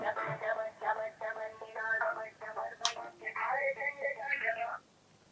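An outgoing phone call rings through a telephone line, repeated electronic ringback tones pulsing steadily and fairly loud before cutting off at the end.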